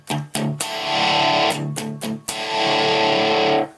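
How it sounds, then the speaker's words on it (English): Single-coil electric guitar at an amp crunch tone, a few choppy distorted chord stabs followed by a sustained ringing chord that drops away abruptly as the noise suppressor clamps it. "You can hear it kind of fade out there, because that's the noise suppressor kicking in."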